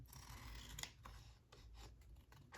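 Scissors snip paper by hand for a tag notebook craft, several quiet crisp cuts in an irregular rhythm, close and faint with no talking.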